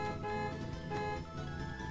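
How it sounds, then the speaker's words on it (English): A car horn honking in a racing video game, a sustained tonal toot held for nearly two seconds over a dense engine-like game soundtrack, fairly quiet overall. "I gotta honk."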